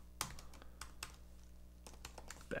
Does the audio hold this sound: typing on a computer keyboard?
yes